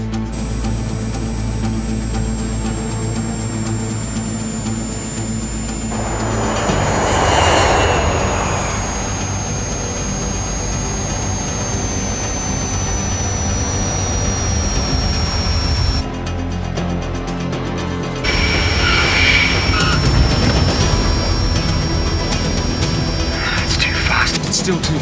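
Steady roar and high whine of jet aircraft engines during landing, continuous and loud throughout with a swelling rush partway, while people talk over it.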